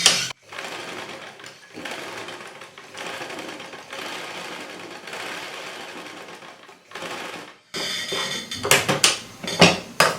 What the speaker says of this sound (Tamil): இந்த டாட் எப்படி பிடிக்கிறதுன்னு தைச்சி காட்டுறேன்.